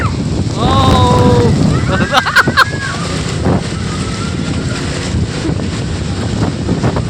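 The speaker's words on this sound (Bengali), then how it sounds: "ফাল্গুনের ঝড়ো হাওয়া শুরু হয়ে গেছে এদিকে অনেক।" Stormy spring wind gusting hard against the microphone in an outdoor setting, a loud buffeting roar under brief calls and whistle-like sounds.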